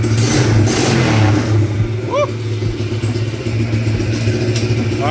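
A 125cc shifter go-kart engine, built for offroad use, idles and revs in a garage. The steady loud mechanical drone carries through the whole stretch with a brief rising rev in the middle, and no one talks over it.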